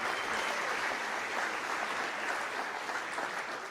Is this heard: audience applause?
yes